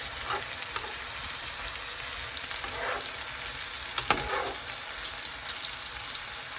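Chicken fries in a pan on a home stove with a loud, continuous sizzle and occasional stirring scrapes, close up and without talk.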